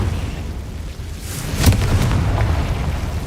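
A Confringo explosion spell goes off in Hogwarts Legacy, a loud booming burst around the middle followed by a rumbling, crackling tail under steady game background noise.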